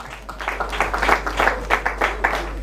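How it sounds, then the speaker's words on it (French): Applause from a gala evening audience in the DR Congo, with claps falling into a loose rhythmic beat, moderately loud, over a low steady hum. "Sous vos applaudissements encore."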